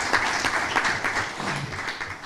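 Applause at a civic ceremony for the 210th anniversary of the Comune di Soveria Mannelli, honouring a former mayor: a steady wash of many hands clapping, fairly close and continuous, with a faint voice underneath.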